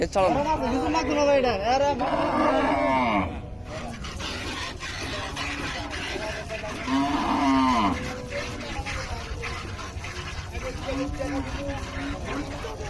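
A dairy cow at a sale, one said to give twelve litres of milk, lets out two drawn-out moos at close range, one early and one later, over steady crowd chatter and background voices.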